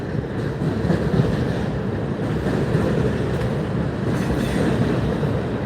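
A train rolls through downtown Atlanta at night, a steady loud rumble of wheels and cars with faint squeals and clatter, continuous and close throughout.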